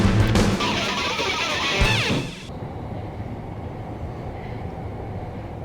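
A subway train rumbles loud and close for about two seconds, then cuts off abruptly, leaving a quieter, steady low hum of the underground station.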